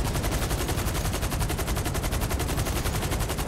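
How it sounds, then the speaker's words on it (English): Rapid automatic gunfire in GTA 5 Online during a co-op mission, a dense, continuous rattle of shots fired in quick succession, loud and steady throughout. "I'm getting shot right now and I can't see him"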